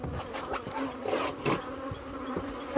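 Young, newly emerged honeybees in a colony that has lost its field bees, giving a close, continuous buzzing hum with wingbeats that swell and fade as individual bees pass near.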